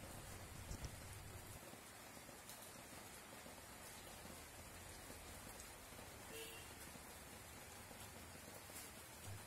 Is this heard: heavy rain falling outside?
yes